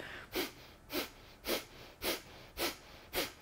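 Breath of fire yoga breathing: six sharp, rhythmic nasal exhalations come about every half second, each a short forceful puff through the nose with quiet inhalation between. Close and clear, with no talking.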